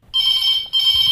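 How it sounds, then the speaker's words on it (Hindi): A telephone bell rings twice in quick succession for an incoming call on a Hindi farmers' phone-in radio programme, bright, steady and close, with a brief gap between rings. "एक और फोन आ रहा हो तो देखो कायना बहन वो भी फोन उठा के"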